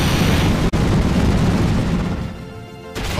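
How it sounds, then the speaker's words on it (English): In a Pokémon video game, an Explosion attack sounds as a loud, sustained booming blast that cuts out abruptly for an instant, then rumbles on and fades into a softer ringing tail before a final burst. "Use explosion!"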